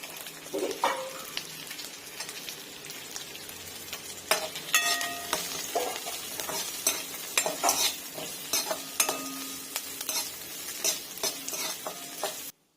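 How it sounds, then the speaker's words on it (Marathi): Ginger and garlic fry with onions in a pan for a traditional Maharashtrian katachi amti, a steady close sizzle broken by repeated scraping stirs of a utensil against the pan, with no voices. "यामध्ये मी थोडं आलं आणि लसूण पण घालून देते, म्हणजे कांद्यासोबत ते पण छान भाजलं जाईल"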